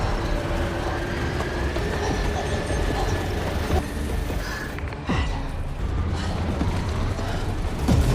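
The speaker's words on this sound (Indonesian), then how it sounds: "Melanie kembali bangkit dan langsung berlari mengejar kereta hingga berhasil masuk ke dalam kereta Big Alice." A train rolls along steadily with a continuous loud rumble and rattle of carriages, a faint tonal whine running through it and a few sharper clanks and hisses midway, no one speaking.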